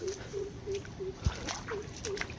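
Water runs down from a channel into a freshly manured farm field, a steady close splashing and sloshing trickle with faint regular chirps in the background.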